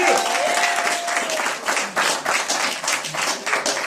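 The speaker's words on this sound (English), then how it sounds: "Clap it up for yourselves." Applause from a comedy special audience, dense and steady clapping filling the room close up for the whole stretch, with no talk over it.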